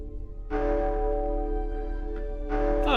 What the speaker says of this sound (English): I thought I changed that gong sound